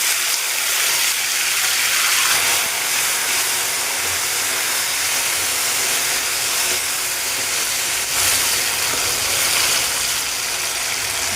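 Hot oil in a pan loud with steady sizzling and hissing as ingredients go in while garlic fries with green chillies for a gathi kochu curry, a dense, continuous crackle close up throughout, no speech.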